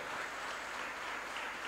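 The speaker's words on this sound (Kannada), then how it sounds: "ಅವರ ತಾಳಕ್ಕೂ ಒಂದು ಚಪ್ಪಾಳೆ ಇರಲಿ." Steady audience applause at a cultural and devotional stage programme, many hands clapping in a dense, even roar that holds at a constant moderate level throughout, with no voices over it.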